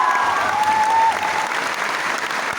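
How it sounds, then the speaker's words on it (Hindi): Steady applause from an audience at a motivational seminar, dense and continuous clapping that fills the whole moment at full strength without letting up. "बजाओ ताली"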